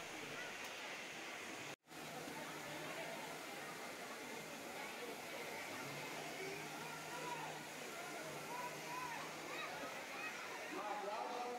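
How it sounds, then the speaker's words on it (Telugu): Waterfall at Kapila Theertham in Tirupati, a steady broadband roar of falling water that continues throughout, with a brief dropout near the start and faint voices of visitors beneath. "సో చూడండి వాటర్ ఫాల్స్ ఎలా ఉందో, బ్యూటిఫుల్గా ఉంది కదా."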